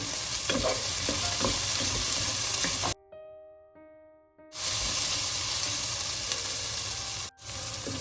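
Sliced onions and slit green chillies with a little salt sizzle steadily in a pan for paneer biryani, a loud continuous frying hiss with stirring scrapes, broken by a sudden gap of near silence midway, with no talking.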